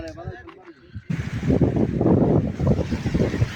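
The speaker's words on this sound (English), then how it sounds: "Waterfall." Steady broadband rush of a waterfall along a footpath down to a swimming spot on the hitchhiking route from Herat to Band-e-Amir, Afghanistan. The rush surges up after a second of talk and continues loud and close, with wind buffeting the microphone.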